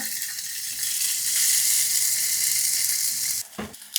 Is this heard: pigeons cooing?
no